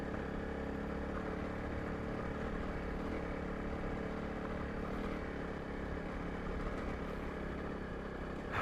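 Honda CRF 300 Rally motorcycle riding over a stony dirt road, its engine droning steadily and continuously throughout, close and loud, with no voices.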